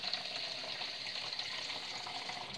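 Cold water pours steadily into a glass demijohn, a faint continuous splashing and filling hiss with no breaks, heard close up and alone.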